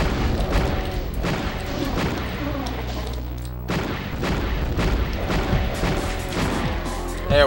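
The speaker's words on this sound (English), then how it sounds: "I did not mean to fire that rocket" In NeoDoom, a rocket launcher fires and its rockets explode in heavy booming blasts among other gunshots, loud and close, with a player speaking now and then.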